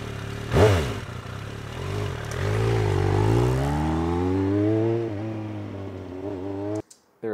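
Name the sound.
Suzuki motorcycle engine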